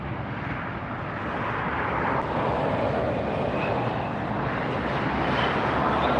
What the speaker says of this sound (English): Delta Airlines taxiing up